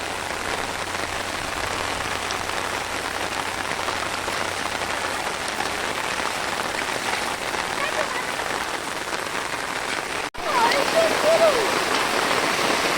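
Heavy monsoon rain pours steadily with rushing floodwater across fields in Konkan, a dense continuous roar throughout, briefly cut near the end before resuming; a voice talks faintly beneath it.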